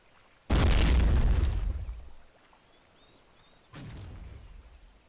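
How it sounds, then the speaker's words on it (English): Two grenade explosions in the war game Men of War Online: a loud close boom that rumbles and decays over about a second and a half, then a second, fainter blast a few seconds later. "Throw some grenades out, see if I get lucky."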